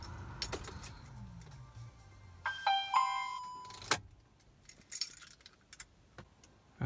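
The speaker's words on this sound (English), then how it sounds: "Turn the ignition." Car keys jangle and turn in the ignition for a startup, followed by chimes and a brief electronic tone, close and quiet with scattered clicks.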